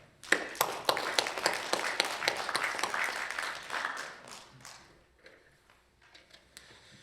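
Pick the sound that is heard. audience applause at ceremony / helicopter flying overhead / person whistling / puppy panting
audience applause at ceremony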